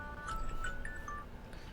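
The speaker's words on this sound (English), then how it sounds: "That is my alarm for my tablets." A soft electronic medication reminder alarm plays a short series of bright melodic beeps, faint and steady against a quiet background.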